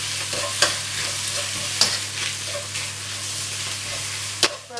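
Double cooked pork stir-fries in a wok, a steady moderate sizzle punctuated by a few sharp spatula scrapes and clanks against the metal, with no one talking.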